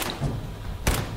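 A gunner's grenade exploding in Fallout 4, a short heavy thud with a broadband crack close by, following a lighter dull thump, brief and sharp, no talk.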